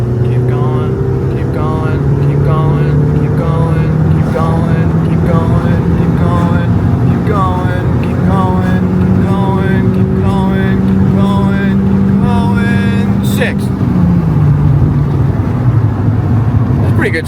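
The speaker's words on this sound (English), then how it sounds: "Wide open throttle. 9 PSI." A turbocharged Mk1 Audi TT 225 8N engine pulls at wide open throttle on 9 PSI of boost. It gives a loud, rising engine drone with wind rush that climbs steadily, then drops off near the end.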